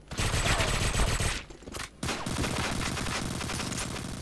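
Rapid bursts of video-game gunfire from GoldenEye, dense and loud for over a second, a brief gap, then another sustained stretch of continuous shooting with scattered impacts.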